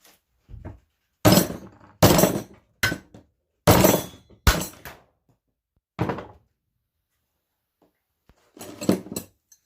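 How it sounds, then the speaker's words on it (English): A hammer strikes a tempered metal piece until it breaks: six or seven sharp, loud, separate impacts in uneven rhythm with silence between them, then one more clanking hit near the end. "We're going to hit this thing with a hammer and see what happens"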